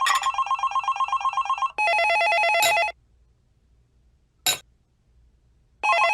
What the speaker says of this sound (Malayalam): എടാ, ആ ഫോൺ അടിക്കുന്നത് നീ കേൾക്കുന്നില്ലേ?